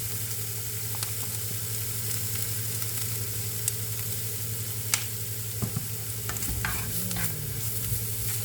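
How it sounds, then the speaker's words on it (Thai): Food being stir-fried in a pan, a constant sizzle with occasional scrapes and clicks of a utensil, close and steady under a low hum. "ก็คั่วคั่วคั่วคั่วก็ผัดผัดนะคะ"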